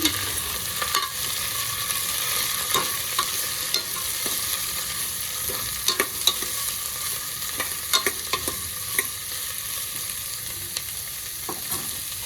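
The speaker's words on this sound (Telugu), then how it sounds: "సో ఫస్ట్ నేనైతే ఈ కూరగాయలన్నీ వేసేసుకుంటున్నాను. వేసుకొని కొంచెం కలుపుకోవాలి." Chopped vegetables stirred in a hot pan, a constant close sizzle and frying hiss with scattered scraping and clinking of the spoon against the pan, and no talking.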